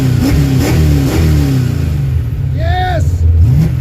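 A car engine with Flowmaster exhaust revs up and down in deep rising and falling surges, heard close from inside a heavily vibrating cabin, with a brief high whine near the end.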